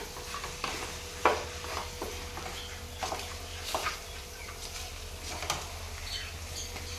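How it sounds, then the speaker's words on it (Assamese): Ginger garlic paste added to a frying pan for chicken curry and stirred, a soft constant sizzle with scattered spoon scrapes and clicks on the pan, quiet and close, under a low steady hum. "তাৰপিছত ইয়াত দি দিম আদা নহৰু পেষ্টটো। এইখিনিও লগাই দিম ইয়াতে একেলগে।"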